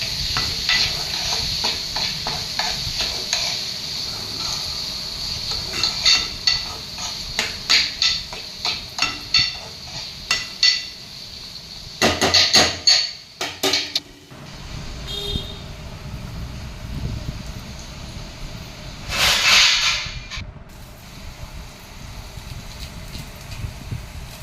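A spoon stirring meal maker masala curry in a pan, with a run of quick scraping and clinking strokes that build into louder clattering bursts, then a lone scrape, over a steady sizzling hiss.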